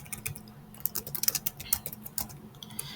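Soft, fairly quiet typing on a computer keyboard, a quick irregular run of light key clicks close to the microphone with faint background hum.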